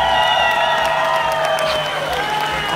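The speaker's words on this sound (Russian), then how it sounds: "Аплодисменты." An audience at a fireworks festival awards ceremony claps and cheers in a steady, moderately loud wash, with faint murmuring throughout.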